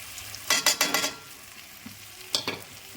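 A spoon scrapes and stirs salt, coriander powder and a green chili in a pan for a capsicum sea-fish curry, with a few quick bursts of stirring, then a pause and two more strokes.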